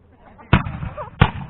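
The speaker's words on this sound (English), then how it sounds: "Sounds like fireworks going off." Two sharp reports of period gunfire at a Civil War reenactment at Point Park ring out about seven tenths of a second apart, crisp and somewhat distant, with quiet voices murmuring in between.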